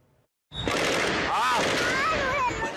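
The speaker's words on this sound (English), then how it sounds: "explosions and shots can still be heard as police search the mall for the shooter" Loud, chaotic burst of gunfire and explosions erupts after a brief quiet in a shopping mall in Thailand during a police search for a shooter, with shouting voices mixed in throughout.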